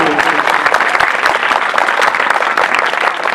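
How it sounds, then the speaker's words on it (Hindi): An audience claps steadily at a school farewell event, dense and loud throughout, with scattered sharp hand strikes and no pause. "इस बात की भी आपके ताली होनी चाहिए"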